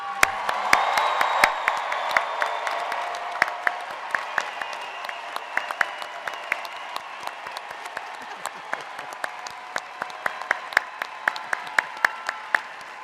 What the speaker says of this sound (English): Families and friends, one more time, please applaud your graduates.